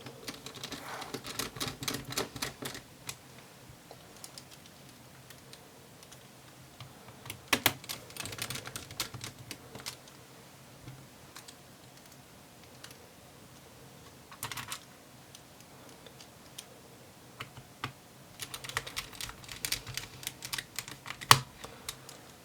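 Small screws are driven into the base of an HP 14-dq2000 laptop with a screwdriver, making faint, rapid ticking and clicking in short bursts separated by quieter pauses.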